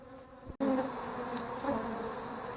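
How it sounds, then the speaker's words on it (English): A dense, steady buzz of many honeybees being vacuumed off comb in a house fills the clip after a brief cut, loud and close, with a continuous droning hum throughout. "Now I'm starting the process of sucking the bees off the comb."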